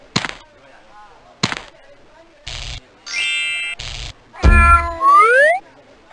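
A cat in the Kingdom O' Magic video game gives a series of loud, close meows and yowls in separate bursts, ending with rising, stretched caterwauls, with game sound effects between them.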